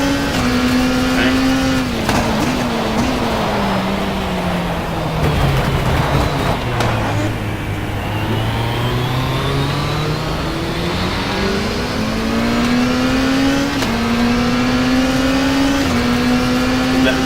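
Race car engines from the WTCC racing video game, with a BMW among the field, drone continuously, pitch falling and rising as the car slows and accelerates again, under steady talk throughout.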